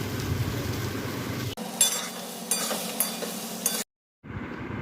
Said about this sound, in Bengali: চিনি দিয়ে নাড়াচাড়া করে